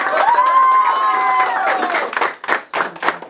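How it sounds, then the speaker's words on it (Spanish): Crowd applause and cheering at a mariachi birthday celebration for Gloria, loud and close with voices mixed in, thinning into scattered claps toward the end. "Ese aplauso maravilloso."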